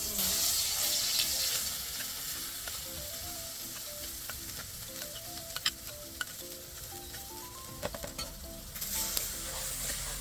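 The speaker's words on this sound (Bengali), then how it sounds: "এই মুগ ডালটাকে একটু কড়াইতে ভাজিয়ে নেব" Ground mung dal paste with ginger and garlic fries in a little oil in a kadai, a steady close sizzle with occasional stirring scrapes and clicks, no talk.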